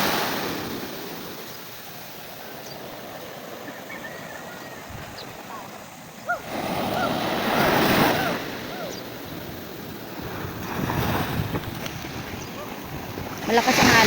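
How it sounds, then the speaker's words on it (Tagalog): Strong sea waves surge onto a beach with wind buffeting the microphone, a low rumbling wash that swells into louder crashing surges partway through and again near the end, no talk. "Malakas ang alon."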